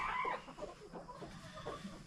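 Broody hens cluck and murmur softly in nest boxes on a small Tennessee homestead, a few close, low clucks and grumbles over about two seconds.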